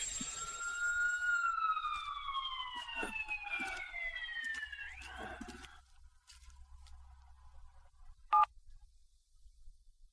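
A police car siren wails with a falling, sweeping tone that fades away over several seconds, followed by near silence and a brief sharp beep.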